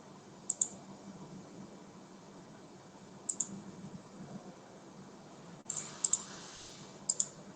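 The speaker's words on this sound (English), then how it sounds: "I'm just typing something here." Keys being tapped on a computer keyboard during an online screen-sharing class, heard as a few sparse clusters of soft, close clicks over a steady background hiss, with no one talking.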